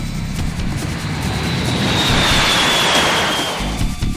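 A large military bomber flies overhead, producing a loud, steady, continuous roar of jet engines that holds evenly throughout with no voices.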